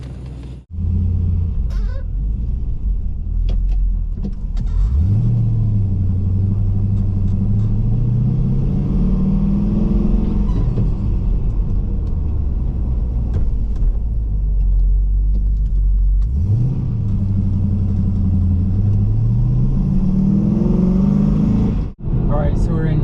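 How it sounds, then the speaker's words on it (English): A swapped LS V8 in a Mazda RX-8 pulls hard in fourth gear from low revs, its deep rumble rising steadily through two long acceleration runs, loud and close from inside the car. "You put your foot down and it still accelerates. That's a beautiful thing about a V8, just all that torque, especially the LS."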